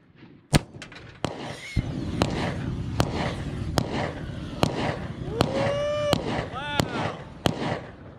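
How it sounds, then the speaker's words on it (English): A 3S LiPo battery shot with an AR-15 bursts into a run of sharp cracking pops and whistling, fizzing bursts spaced across the clip, loud and close, with excited voices talking over the burning crackle. "not the explosion I expected, but that's pretty good. Got some fire going."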